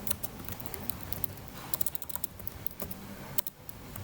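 Typing on a computer keyboard during a calculus lecture, a quick irregular patter of close, sharp key clicks running through the whole stretch with no talking.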